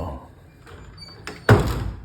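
A hotel room door at the Waterfront Airport Hotel and Casino in Mactan slides along its track and ends in a loud, close thud, after a quieter stretch of faint room noise.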